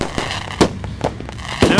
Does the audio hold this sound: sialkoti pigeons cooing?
no